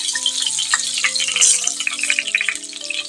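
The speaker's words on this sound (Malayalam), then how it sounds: "എണ്ണയിൽ തന്നെ രണ്ട് തക്കാളി രണ്ടായിട്ട് കട്ട് ചെയ്തും കൂടി ഇട്ട് കൊടുക്കാം" Halved tomatoes frying in hot oil in a pan, a dense continuous crackling sizzle with bright spattering, close and fairly loud, with faint tonal background sounds running underneath throughout.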